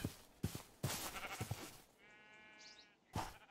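A sheep in the Minecraft modpack RLCraft gives a drawn-out bleat, preceded by a few sharp thuds and game noises, heard close and clear with no talking.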